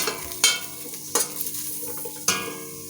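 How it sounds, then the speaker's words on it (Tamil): Ingredients are dry-roasted and stirred in an empty kadai without oil, with three sharp, close scrapes of a spatula against the pan over a low, steady sizzle. "எண்ணெயெல்லாம் ஊற்றாமல் எம்டி கடாயில் தான் நம்ம வறுக்கணும்."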